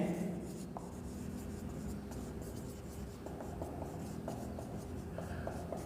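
A pen scratches across paper as a job application letter is handwritten, a faint, continuous scratching of strokes close by, with small pauses between words.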